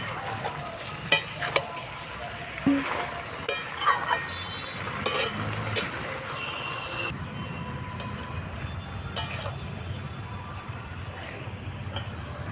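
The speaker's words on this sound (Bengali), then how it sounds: "সময় নিয়ে ইঁচড় আর আলুটা কষাতে হবে সমস্ত মশলার সাথে" Jackfruit and potato sautéed with spices in a pan, a low continuous sizzle with scattered scraping stirs and clinks, moderately quiet, with no talk.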